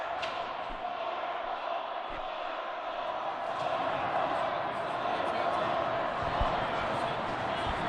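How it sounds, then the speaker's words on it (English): Crowd at a high school hockey cup final, St Charles against Upper Arlington, roaring steadily in an arena with scattered shouts and rhythmic chanting, a constant wash of noise throughout. "can hear the crowd here going nuts"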